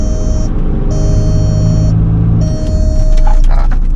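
A Volkswagen Beetle engine runs loud and close, revving up in a continuous droning roar with a whining edge that rises toward the end, and no one talks.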